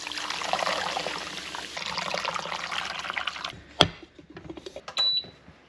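Water poured into a slow cooker while rendering beeswax through cloth, a close, steady splashing trickle for several seconds, then quieter drips and a sharp clip click near the end.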